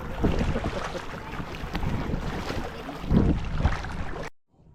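A boat under way on open water gives continuous rushing wash and wind buffeting against the microphone, steady and fairly loud, before cutting off abruptly near the end.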